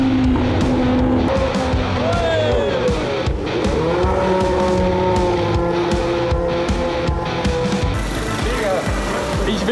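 A Formula 1 racing car at full throttle: a continuous loud, high engine whine with rising and falling pitch sweeps over a dense low roar, steady throughout.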